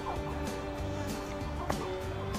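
Chickens in a coop, faint clucking and low fowl calls repeating softly over a quiet background.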